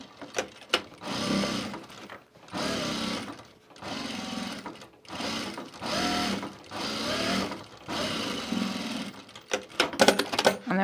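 A sewing machine top stitches a garment duffle bag, running in several steady bursts of a few seconds each, separated by short pauses, close and fairly loud.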